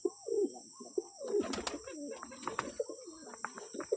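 Lotan pigeons coo at close range in a home loft, several low throaty rolling calls repeating over a faint background hum, with no speech.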